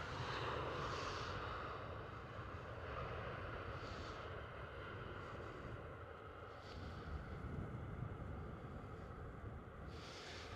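KLM City Hopper airplane engines at Schiphol airport roar as a broad, sustained rumble and whoosh lasting over ten seconds, with some wind buffeting.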